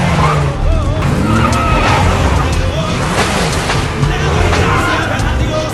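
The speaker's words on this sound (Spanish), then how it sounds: "Edward les tira el auto encima, haciendo un derrape donde casi los atropella" A car skids in a film scene, its tyres squealing in long wavering whines over a loud rumbling engine, with voices and dense soundtrack layered throughout.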